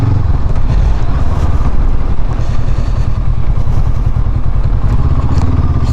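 A 2022 Honda CB500X ridden off-road: a loud, steady engine drone mixed with constant clatter and thumps from the rough ground, close and continuous.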